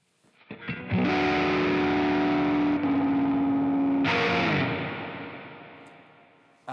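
Distorted electric guitar through an effects unit's pitch switch dropping it a semitone: a strummed chord rings out loud, a second sustained chord follows around the three-second mark, then a bright fresh strike that slowly decays alone.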